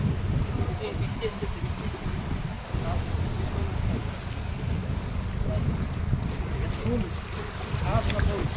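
Waves ripple on Karnaphuli lake at Polwel Park in Rangamati at night, a low, continuous wash of water mixed with gusty wind rumble on the microphone.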